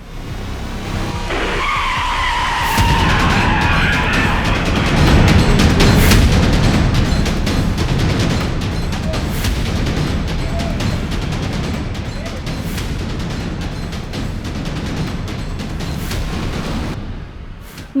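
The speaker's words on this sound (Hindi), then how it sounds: "वीडियो में देखा जा सकता है कि एक तेज रफ्तार कार अचानक से बेकाबू हो और सामने से आते हुए एक बाइक से टकरा जाती है।" A speeding car goes out of control, skids and crashes into oncoming motorbikes: a loud, sustained rush of road noise and scraping runs for the whole stretch, with a squealing tone early on and scattered sharp impacts, and no voices.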